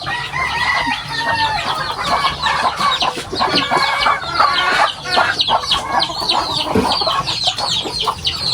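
Native hens cluck and cackle loudly and close in a busy, agitated chorus, with a rooster crowing among them and faint voices in the background.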